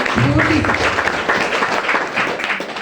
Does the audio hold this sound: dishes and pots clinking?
no